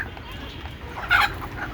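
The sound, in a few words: desi chickens clucking and rooster crowing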